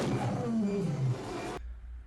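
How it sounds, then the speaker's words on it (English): A monster's roar from the 1982 horror film Poltergeist, blending a lion's growl with a dinosaur-like bellow, loud and close with a low, rumbling tone for about a second and a half before it cuts off abruptly. "That sounded like a mixture of a lion and a dinosaur."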